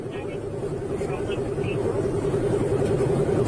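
A car speeding along at about 94 miles per hour, its engine and road noise forming a steady, loud drone with a strong low hum throughout, while someone talks over it.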